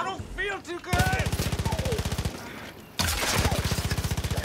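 Rapid automatic gunfire in the video game Far Cry New Dawn, two loud sustained bursts of evenly spaced shots separated by a brief pause, with a short stretch of other game sound before the first burst.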